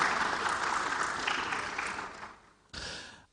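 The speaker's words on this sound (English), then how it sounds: "Shall we do a big round of applause for them once again?" An audience at a conference gives a round of applause, a dense burst of clapping that fades out, then a short loud renewed swell at the end.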